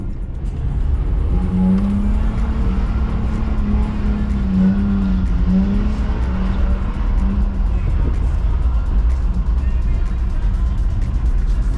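BMW E46 drifting through a corner on a slippery winter night street, heard from inside: a loud, steady engine drone swells and wavers with throttle, with the tires slipping underneath, while someone talks over it.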